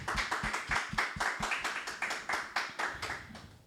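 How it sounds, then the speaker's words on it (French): A church congregation claps together in a fast, steady rhythm at a Sunday service, the loud, close handclaps repeating evenly with no voices over them. "Applaudissons pour Jésus-Christ."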